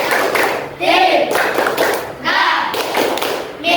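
Elementary school students stand and perform a patterned group clapping routine, bursts of unison claps and slaps alternating with shouted chant voices in a classroom, loud and rhythmic with brief pauses between phrases.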